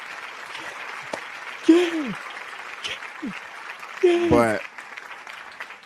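Applause from an audience at a podcast taping rustles steadily in the background while someone talks over it, with a couple of louder spoken bursts.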